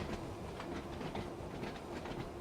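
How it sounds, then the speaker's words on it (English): Inside the Train Sim World 2 cab of a Class 483 Isle of Wight train at night, the running train gives a steady rumbling roll with soft, rhythmic clickety-clack from the wheels, moderate and continuous. "It's a fun train, this the 483 to 38 stock."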